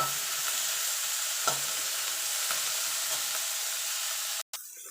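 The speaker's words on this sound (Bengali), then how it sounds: "দেখুন বন্ধু আলু আর বেগুনটা ভাজা ভাজা হয়ে গেছে আমি তুলে নেব" Potato and eggplant pieces frying in oil give a steady, close sizzle with occasional stirring scrapes, then a brief drop to silence near the end.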